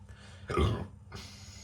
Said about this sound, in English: Beautiful burp on it.